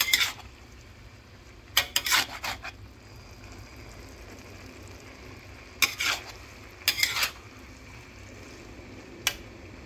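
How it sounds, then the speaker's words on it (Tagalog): Pasta and mushrooms are stirred together in a pan, making bursts of scraping and rubbing strokes over a low, steady sizzle, with several separate stirring passes spread across the stretch and quiet frying between them. "paghaluin natin itong mushroom at saka yung pasta"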